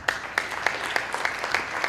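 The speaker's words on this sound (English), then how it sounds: "a lot of you applauded for some of them" Scattered audience clapping at a live skeptics' conference talk, a thin, fairly quiet patter with a few sharper claps standing out at a steady pace, no voices over it.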